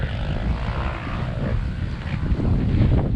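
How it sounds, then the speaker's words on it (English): Strong wind on a hillside motocross track at Glen Helen, California, buffeting the microphone in a loud, continuous rumble with gusty swells. "It is crazy windy."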